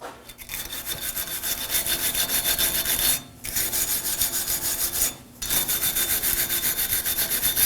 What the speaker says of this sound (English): Using a wire brush, we're going to clean the hub.